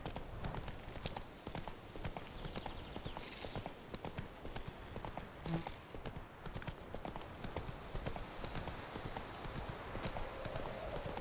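A horse gallops steadily across open land in The Witcher 3, its rapid, continuous hoofbeats thudding throughout with a faint background score.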